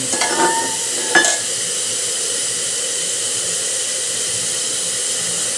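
Steam vents with a sustained, even hiss from the wand of a Cremina lever espresso machine after its knob is opened about one and a half turns, following a couple of brief metallic clicks at the start.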